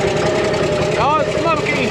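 A Caterpillar engine idles steadily after a cold start on a cool morning, a loud continuous diesel drone with rising and falling whines layered over it, and a voice talking faintly in the background.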